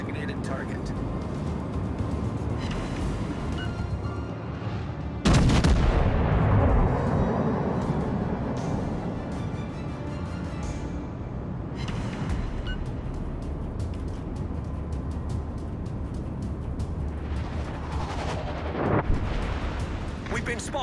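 Naval gunfire in World of Warships: Legends: deep, rumbling cannon booms with one heavy blast standing out midway, followed by long rolling decay and further distant thuds beneath voices.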